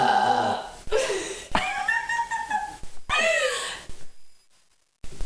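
A person lets out several loud, drawn-out burps in a row, close and dry, the last ending abruptly before a short silence.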